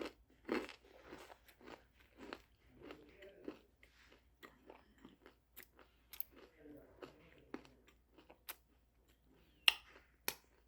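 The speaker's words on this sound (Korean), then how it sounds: "쿠키를 한개 먹어볼까요?" A cookie bitten and chewed close up, a series of crisp crunches and crackles at an uneven pace with quiet pauses between, and no talking.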